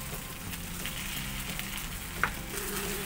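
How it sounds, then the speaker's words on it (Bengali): Semolina is stirred with milk in a pan over a gas flame while making coconut modak, giving a steady close sizzle with soft scraping, a brief clink partway through, and no talk. "সেকেন্ডবার দুধ দেবার পর সুজির সাথে ভালোভাবে মিশিয়ে নিচ্ছে"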